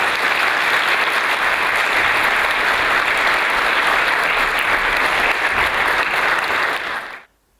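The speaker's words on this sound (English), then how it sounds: "I'd like you to join me in an applause for the team." Sustained, loud audience applause at the Western Balkans ESG Summit 2023 closing remarks, steady dense clapping from a large crowd that holds evenly for about seven seconds, then cuts off abruptly.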